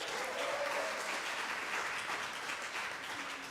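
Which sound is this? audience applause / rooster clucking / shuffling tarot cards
audience applause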